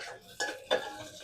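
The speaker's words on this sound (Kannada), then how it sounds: "ಈರುಳ್ಳಿ ಎಲ್ಲ ಫ್ರೈ ಆಗೈತೆ" Onions frying in a pan and stirred with a utensil, two distinct metallic scrapes over a soft sizzle, close and fairly quiet.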